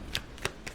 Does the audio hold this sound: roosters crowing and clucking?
no